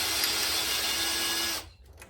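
A power drill whines steadily at high speed for over a second drilling out pop rivets on a caravan door lock, then cuts out abruptly, leaving a few faint clicks behind.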